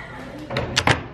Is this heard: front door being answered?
yes